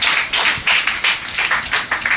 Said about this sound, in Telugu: అందరూ గట్టిగా చప్పట్లు కొట్టి సంపాదించి దేవుని కనపరచండి